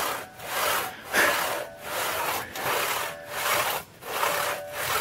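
A Swedish steel cross cut saw works through wood in a steady rhythmic back-and-forth, each stroke a rasping, ringing pass with brief pauses between, close and clear with no talking.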